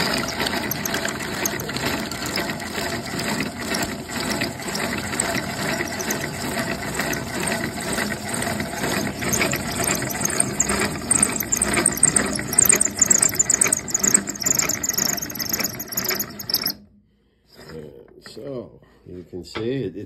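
A hand-cranked Stanley No. 77 dowel machine shaves a half-inch softwood blank into a dowel, giving a steady, continuous grinding and whirring of blade on wood with a rattling mechanical rhythm, close and fairly loud, ending abruptly near the finish.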